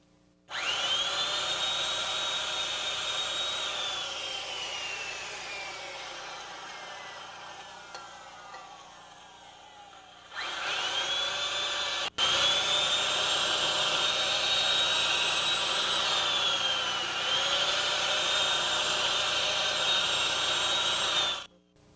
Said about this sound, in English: We also recommend to lubricate the drill bit with some type of penetrating oil